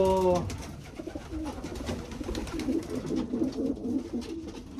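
Racing pigeons coo in steady, low repeated phrases, close and clear, with a faint higher chirp at the very start and no one speaking.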